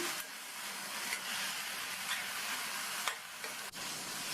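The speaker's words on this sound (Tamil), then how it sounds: "இந்த கத்திரிக்காய் நல்லா வதங்கி வரணும்." Chopped brinjal with salt sautés in a pan for chutney, producing a soft steady sizzle with hissing steam and a few clicks of stirring, fairly quiet and close, without any voices.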